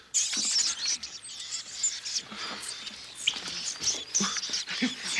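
Monkeys and apes chatter in the trees in a busy mix of high squeaks, chirps and rustling patter that sounds fairly distant and is faint overall, continuous and uneven, with no talking.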